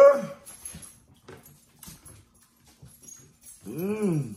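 A pet dog in a home whimpers and yips at close range in short bursts, ending in a louder drawn-out whining cry, with quiet gaps and faint movement between the sounds.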